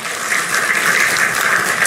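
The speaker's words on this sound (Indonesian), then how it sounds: "Tepuk tangan untuk Gus Yakut." Dense, steady clapping from a crowd applauding Gus Yakut, loud and close throughout the short burst.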